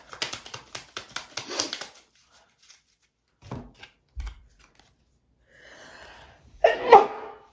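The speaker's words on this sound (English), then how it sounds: "I got to sneeze" A rapid run of clicks and snips opens, then quiet shuffles, a breathy intake, and finally one sharp, close sneeze.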